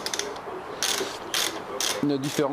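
Ratchet wrench clicking as it undoes bolts on the front fork of a 250 YZ motorcycle, a few short bursts of rapid ratcheting at close range with some clanking of tools.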